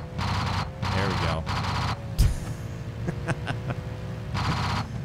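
A hidden Gatling gun on a Hyper Bolide car in BeamNG Drive fires on a police car, giving three long roaring bursts, then a sharp impact and scattered hits, and a final burst near the end.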